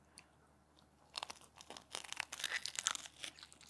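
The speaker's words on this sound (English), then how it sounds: "Okay, this is a bite of the crunchy bit." Crunchy crust of leftover pizza bitten and chewed up close: a quiet lead-in, then a burst of sharp crackling crunches and chewing that continues to the end, with no talking.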